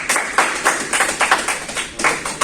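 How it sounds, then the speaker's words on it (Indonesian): A classroom of students claps for a student group, a short burst of quick, uneven hand claps that rise and fall in small waves and stop after about two seconds. "Beri tepuk tangan dulu dong untuk kelompok 1."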